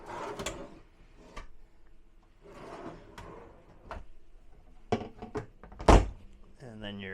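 Rollout drawers in the kitchen of a 2010 40-foot Magna RV sliding open and shut, several separate thunks and knocks spaced through a quiet interior, with brief bits of a voice between them.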